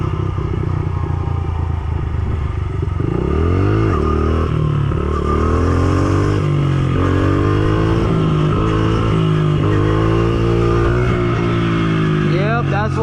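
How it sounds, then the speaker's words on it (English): A stunt motorcycle with a loose bolt on the side of its exhaust idles and revs, a rough engine drone rising and falling in several throttle blips with a metallic rattle running through it, close and loud. "There's a bolt right there on the side loose on the exhaust."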